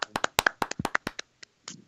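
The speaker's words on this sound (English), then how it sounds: "everybody give a round of applause, clap for Matt" Brief, uneven clapping from a few hands, about a dozen sharp close claps that thin out and stop, with no voices.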